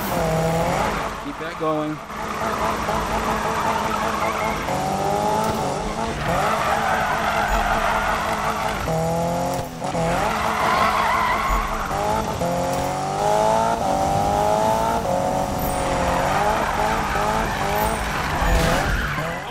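Long, continuous tire squeal from handbrake drifting of a Toyota AE86 or GT86 in Need For Speed 2015, loud and wavering with a revving engine rising and falling underneath, while someone talks over it briefly.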